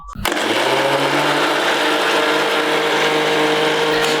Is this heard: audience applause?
no